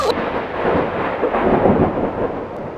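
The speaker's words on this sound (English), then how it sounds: "Getting quite the thunderstorm." A loud thunderstorm rumbles close by, a long rolling peal of thunder over a wash of falling rain, with no voices.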